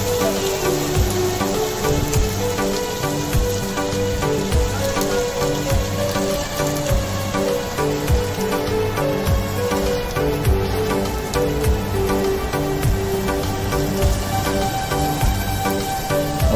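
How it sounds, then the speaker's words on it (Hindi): Heavy rain pours down continuously, a dense steady hiss with a low rumbling hum underneath. "और बारिश बहुत ज़्यादा हो रही है"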